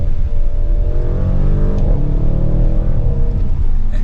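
A 2024 Audi RS7 hatchback pulls hard in second gear, its engine a loud, deep, rising roar heard from inside the cabin, building steadily over a few seconds without any voices.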